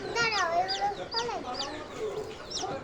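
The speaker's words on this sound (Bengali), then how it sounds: "মুরগির বাচ্চাগুলো ফুটছে যে" A hen clucks and chirps over her newly hatched chicks in a steady run of calls that rise and fall, close and fairly loud, with faint background noise between them.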